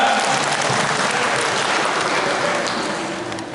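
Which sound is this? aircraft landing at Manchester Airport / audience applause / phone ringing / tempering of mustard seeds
audience applause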